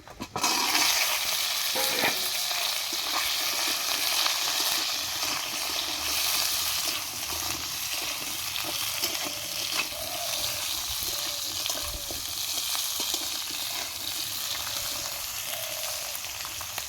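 Cut potatoes and eggplant frying in hot oil with five-spice seeds, a loud, steady, dense sizzle lasting throughout, broken by occasional stirring scrapes, close up and with no voices.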